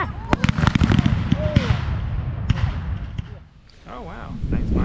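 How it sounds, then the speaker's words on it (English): Fourth of July fireworks at Mecosta crack and boom in sharp, irregular bursts, loud and nearby, with people talking and calling out between the blasts. "we're gonna go check out some fireworks"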